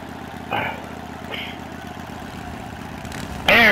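ATV engine idling outdoors: a steady low mechanical putter running throughout, with brief louder revs, while someone talks over it.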